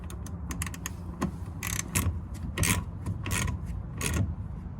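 Quiet, close mechanical clicking and ratcheting comes in small irregular bursts as a hose clamp is tightened on the fuel filter of a VW Golf Mk4 GTI.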